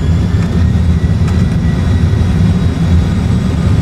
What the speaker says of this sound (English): Reverse thrust.